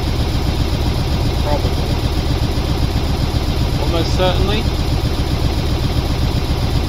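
Constant mid-pitched drone of a vehicle engine running in the video game Stormworks, steady and loud throughout, with someone speaking briefly over it.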